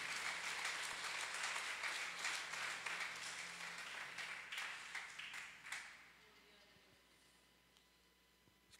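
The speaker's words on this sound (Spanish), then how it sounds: "Dele fuertes esas palmas al Rey de Reyes." A church congregation claps loudly and steadily for several seconds before the applause fades out, leaving near-quiet.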